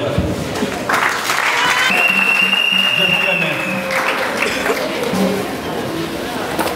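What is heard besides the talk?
audience applauding standing guests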